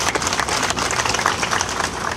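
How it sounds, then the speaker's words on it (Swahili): A crowd applauds at a foundation stone ceremony for a road construction project, with dense, steady clapping that continues throughout at a fairly loud level. "Tuwapigie makofi mengi sana wenzetu wa dharura"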